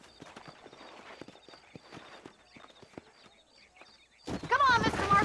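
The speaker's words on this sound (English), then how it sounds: "These are fine horses" Horses trot in the video game Red Dead Redemption, with crisp, evenly spaced hoof clip-clops at a moderate distance, followed by someone talking loudly at the end.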